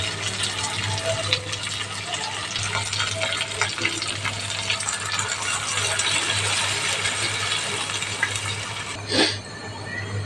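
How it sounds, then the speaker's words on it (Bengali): Water pours steadily into a pot of chicken and potato curry for several seconds, a continuous splashing rush with faint rattling, ending with a brief clank. "এখন ঝোলের জন্য পরিমাণ মতো পানি দিয়ে দেবো"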